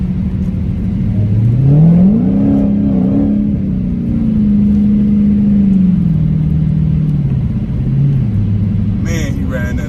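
Dodge Hellcat on 305/30 ZR20 Pirelli P Zero tires accelerating on a wet road, a loud steady engine drone rising in pitch then settling into a long cruise, heard from inside the car with brief talk at the end.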